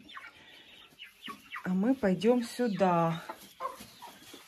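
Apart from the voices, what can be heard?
hens clucking at a dacha, one laying an egg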